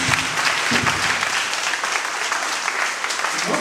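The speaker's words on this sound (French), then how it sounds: "Je pense que ça mérite des applaudissements." Applause from a congregation at a Christian Bible conference, a steady dense wash of clapping held at an even level for several seconds, with faint voices underneath.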